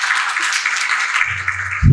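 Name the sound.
audience applause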